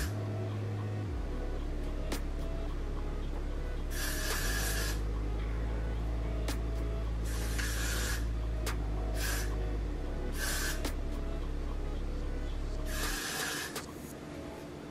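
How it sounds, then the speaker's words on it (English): Hair spray hisses out in several short bursts across the lace front of a wig, each puff a bright airy spray lasting about a second, close to the microphone over a steady low background hum. "I'm literally just going to spray this in the front of the unit, pretty much across the lace"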